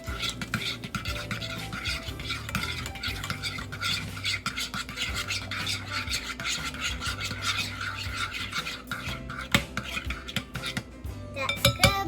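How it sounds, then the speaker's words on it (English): A spoon stirs marinara sauce in a pot, scraping and clinking steadily against the metal for a long stretch, with soft background music underneath and no clear talk. "will you stir that up for me?"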